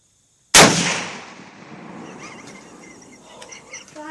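One loud, sharp firearm shot at close range on a shooting outing, cracking suddenly out of silence and then rolling off in a long echoing decay. Faint chirps follow in the background.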